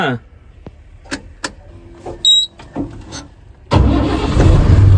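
A truck engine cranks after scattered clicks and brief mechanical sounds, then catches and settles into a loud, steady idle for the last second or so.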